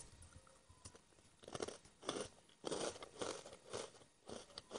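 Crunching bites of Jagabee honey mild potato snacks, a quiet series of crisp chewing crunches in an irregular rhythm, close to the mic with no talking.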